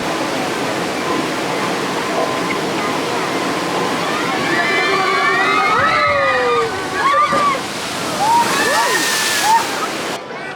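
Rushing water and splashing from the Tutuki Splash water ride at PortAventura, a steady wash of spray and sloshing with louder splashes toward the end, with people talking over it.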